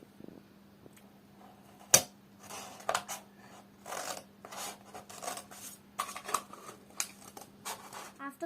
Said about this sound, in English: and then you cut it out